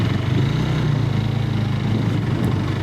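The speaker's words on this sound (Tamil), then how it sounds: "சிங்கிள் எக்ஸாஸ்ட் கொடுத்ததுனாலுமே எக்ஸாஸ்டோட நோட்டு நல்லா வந்து சூப்பராக வந்து பண்ணியிருக்காங்க" A 2026 Yezdi Scrambler motorcycle with a single exhaust and new Katar engine runs steadily while being ridden, giving a continuous low, throbbing engine note that stays at a moderate, even level throughout.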